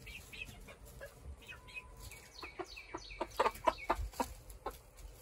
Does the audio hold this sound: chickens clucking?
yes